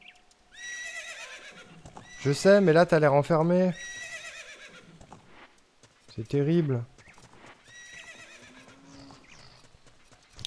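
Epona, the horse in the video game Ocarina of Time, gives two loud whinnies, one long and one shorter, with soft hoof clopping between them while a person speaks over much of it.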